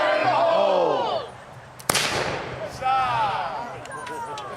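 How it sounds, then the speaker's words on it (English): A Chinese hand cannon fires once with a single sharp, loud bang at a pirate-themed Silver Kingdom event, with shouting and crowd voices around it. "Nice pop. The Chinese hand cannon."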